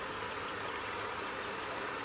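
Water from a Stealthflow downspout extension runs steadily into a drain outdoors, a faint continuous trickling rush with no talk.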